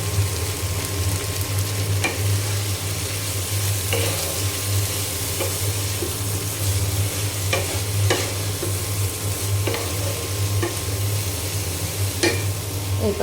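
Turmeric powder and salt stirred into a frying mixture in a pan: a constant close sizzle with a low hum beneath, broken by repeated sharp scrapes and taps of the spoon against the pan.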